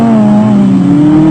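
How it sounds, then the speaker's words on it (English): A Jimco off-road race car's engine revs hard and steady at close range during the Barberspan off-road race in South Africa, a strong continuous roar with a slowly rising pitch and no voices. "Dowse and VZ Van Zyl follow closely in the M&E Glass race car"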